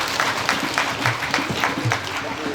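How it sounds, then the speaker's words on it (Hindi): Applause from an audience at a live Shri Ram Katha religious gathering, a steady wash of clapping from many hands, fairly close and continuous, with voices mixed in. "ताली बजा लो"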